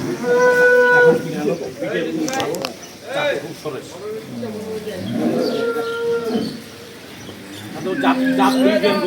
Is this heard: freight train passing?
no